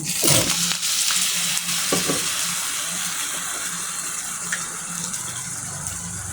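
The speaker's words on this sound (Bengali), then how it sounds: "একটু পানি অ্যাড করলাম।" A little water poured into a cooking pot of spiced egg curry with ginger, garlic, salt and turmeric, a short close gush and hissing splash followed by a steady low sizzle and bubbling.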